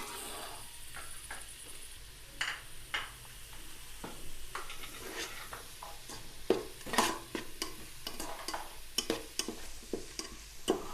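Garlic, ginger and cumin paste lightly frying in a pan while being stirred, a soft sizzle under irregular scrapes and taps of a spoon, close and moderately quiet, with no voices.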